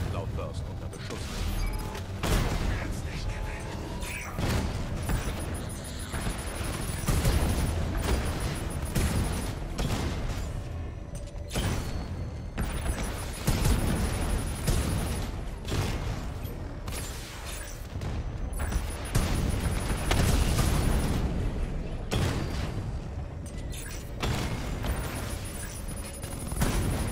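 Explosions and gunfire in the video game Batman: Arkham Knight, a dense continuous barrage of booms and rattling shots mixed with mechanical noise, loud and sustained throughout, with voices speaking over it.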